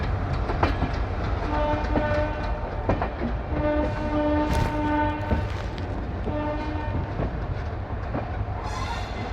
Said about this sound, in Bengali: সামনের অ্যালকো লোকোমোটিভের আওয়াজটা অসাধারণ লাগছে